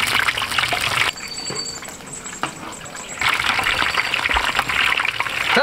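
Pork elbow deep-frying in a wok of plenty of hot oil seasoned with ginger, bay leaf, cinnamon and spices: loud, steady sizzling and crackling bubbling, easing briefly in the middle before surging again.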